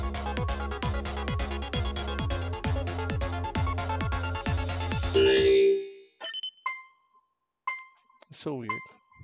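Notification chime: a bright, rapid repeating ringtone-like melody plays loudly for several seconds, then cuts off, followed by a few faint scattered clinks and a brief rising tone.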